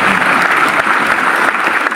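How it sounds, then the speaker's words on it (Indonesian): A church congregation at Gereja Tiberias Indonesia applauds loudly, a thick, steady wash of many hands clapping at close range for the whole moment. "Tepuk tangan yang paling meriah."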